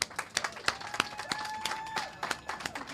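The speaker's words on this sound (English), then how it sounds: "So let's give them one more round of applause." A small group at an outdoor ribbon cutting for local businesses claps, sparse separate hand claps in an uneven rhythm, fairly faint and close, with a thin whistle-like tone passing in the background.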